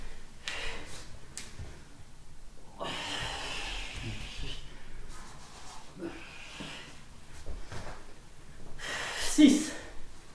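Heavy breathing during a shoulder, biceps and triceps gym workout: several forceful, breathy exhales in irregular bursts, moderately close, with a sharper snort-like puff near the end.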